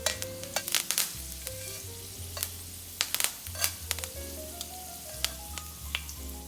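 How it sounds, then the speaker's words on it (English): Steaks fry in oil with thyme, stirred around the pan, producing a soft, continuous sizzle punctuated by sharp clicks and taps of the utensil against the pan, with a low steady drone underneath. "we're just gonna stir this around the pan a little bit, just to get that good thyme flavor into our oil"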